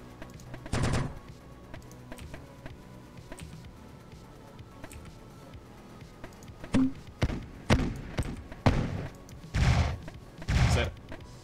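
Heavy shotgun blasts in the twin-stick robot shooter NeuroVoider, a quick burst of booming reports at first, then a run of evenly spaced loud shots near the end over low game background noise.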